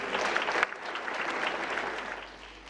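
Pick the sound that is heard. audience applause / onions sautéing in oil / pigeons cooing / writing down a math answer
audience applause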